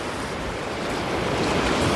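Sea waves wash onto the shore in a continuous rushing roar, with a slight swell toward the end and wind noise mixed in.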